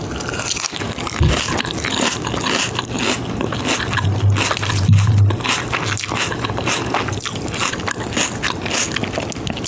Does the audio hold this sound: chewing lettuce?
yes